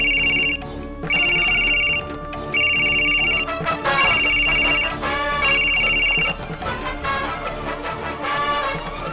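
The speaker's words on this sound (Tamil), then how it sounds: "ஐயோ மேடம் போன் அடிக்குதுல" A phone ringtone chirps in repeated high electronic pulses, sounding four or five times in a regular pattern over background music in a TV drama scene, fairly loud and without talk.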